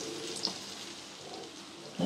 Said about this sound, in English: Now that these have begun sizzling